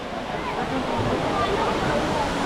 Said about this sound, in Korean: 이게 인공폭포 같은데